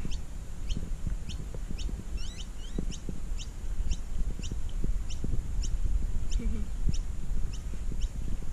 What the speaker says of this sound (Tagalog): Ang daming pato.